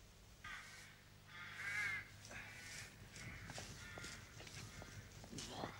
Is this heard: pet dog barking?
no